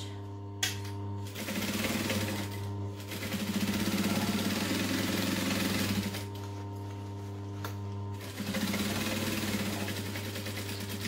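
A sewing machine runs in bursts, stitching a backstitch on a handbag, giving a steady mechanical whir with pauses between runs, close but fairly quiet against a constant low hum.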